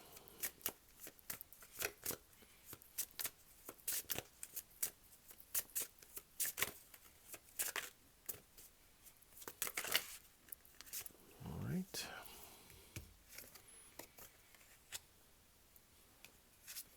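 Tarot cards shuffled and drawn in a reading, a long run of quick crisp riffling clicks and slaps, close and fairly loud, with a brief voice and a soft thump near the middle.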